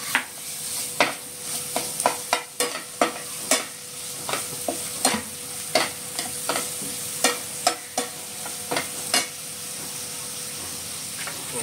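Kardi shrimp stir-fried in a pan with tomato and homemade ground masala, a steady sizzle under repeated sharp scraping strokes of a spatula, close and fairly loud throughout.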